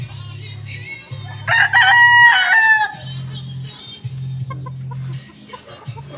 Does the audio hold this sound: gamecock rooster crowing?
yes